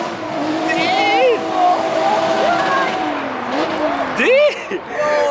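A BMW F30 340i revs and crackles among other cars at a crowded meet, engine notes rising and falling over a steady roar of crowd noise, with a tire squeal near the end.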